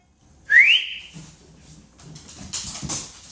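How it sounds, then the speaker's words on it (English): A person whistles a short rising note to call a dog, close and clear, then quieter shuffling and rustling follow, ending with a couple of louder breathy bursts; no talking. "That's all I gotta do is whistle, and here she comes."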